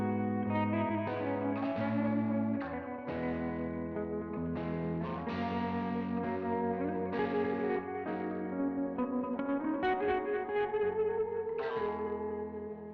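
A Fender Telecaster American Vintage II Thinline electric guitar runs through 1981 Inventions DRV1 and DRV2 drive pedals, playing overdriven chords and single notes with echo and reverb, loud and close with no talking.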